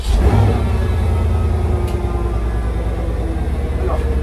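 A 4.5-litre twin-turbo V8 car engine, rated at 521 horsepower, runs loud and close. A deep, steady rumble gives a brief blip of revs at the start, then settles into an even idle.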